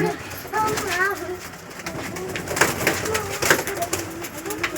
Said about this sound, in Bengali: কি সুন্দরভাবে খেলছে কতকগুলো পায়রা দেখো অনেক পায়রা